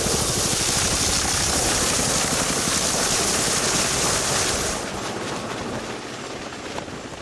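Military helicopter serving a Royal Marines compound in Taliban territory, a loud, steady rotor and engine roar with rhythmic blade thumping that drops in level after a few seconds but keeps going.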